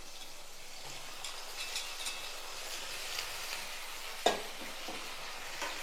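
About 150 grams of eggplant pieces sautéing with tomatoes in a pan for kara kuzhambu, a soft, even sizzle with light stirring and one sharp utensil clink near the end.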